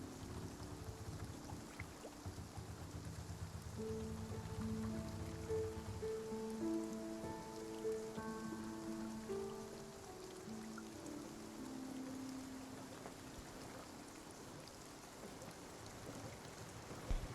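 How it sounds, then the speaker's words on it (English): Rain in the video game Spiritfarer, a steady soft patter of rain on surfaces under a gentle musical melody. "we are waking up to more rain showers"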